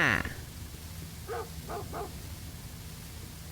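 A dog in the Roblox Pirate Ship Escape game gives three quick, fairly faint barks in a row, close together, with quiet background noise around them.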